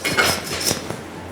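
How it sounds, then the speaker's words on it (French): An American-style hand bone saw cuts through lamb bone in a butcher's workroom, giving a few quick rasping strokes in a short burst. "c'est une scie américaine pour scier les os"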